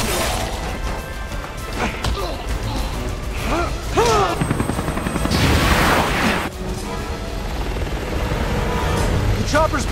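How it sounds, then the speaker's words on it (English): A helicopter pulling back in the video game Resident Evil 6, its rotor roar mixed with crashes, booms and impacts of combat, loud and chaotic throughout the ten seconds, with voices calling out over it. "Chopper's pulling back!"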